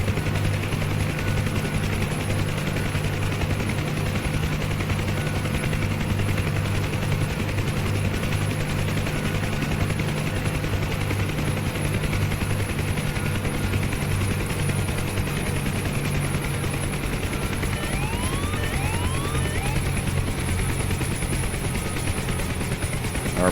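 A Huey helicopter in the DCS flight simulator sits after a soft landing, its engine and rotor drone running steady and loud throughout, with a faint whining sweep near the end as the RPM winds down.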